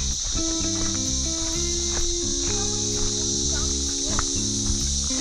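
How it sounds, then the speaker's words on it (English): Cicadas in warm Australian bush along a quartz-reef track, a loud steady high-pitched drone that never lets up, with the faint scuffs of footsteps and a low hum underneath. "Cicadas everywhere."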